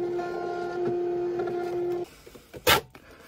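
Munbin label printer running a 6x4 label in a garage, a steady motorised whir with a clear hum for about two seconds, then stopping, followed by a short sharp tear or click.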